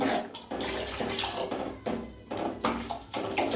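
A steady stream of water splashes into a fish sambar pot, continuous and close, with brief dips and surges as the pour shifts, enough to cover the fish.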